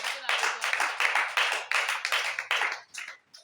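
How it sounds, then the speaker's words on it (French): A church congregation applauds for the Lord at a French-language African worship service, with sustained dense clapping in repeated bursts about every half second to second, fading near the end, with voices mixed in. "applaudissez pour le Seigneur"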